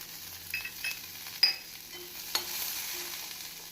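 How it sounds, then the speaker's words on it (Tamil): Curry leaves and dried red chilies fry in a pan of lightly sautéed onions for tomato chutney, giving a steady soft sizzle with a few faint scrapes and clicks of stirring throughout. "நாம் கறிவேப்பிலையை போட வேண்டும் பின்பு காய்ந்த மிளகாயை போட வேண்டும்"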